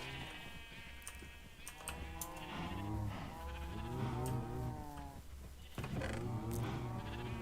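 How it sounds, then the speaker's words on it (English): Pink sheep in a Minecraft-style video game bleating repeatedly, several overlapping loud bleats close by with short gaps, alone without talk. "Pink sheep!"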